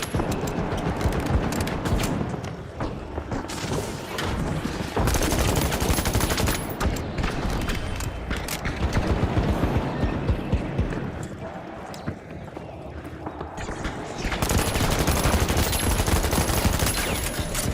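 Heavy gunfire in a firefight in The Finals, with sustained loud bursts and rapid shots running across the whole stretch, joined by explosions and chaotic game effects, with voices mixed underneath.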